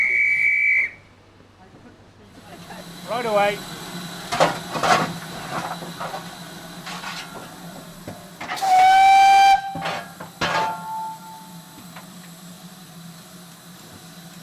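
A Great Western Railway steam locomotive sets off at Minehead. A shrill whistle sounds first, then loud bursts of hissing steam vent from the cylinders in uneven puffs, with a brief spoken call near the start.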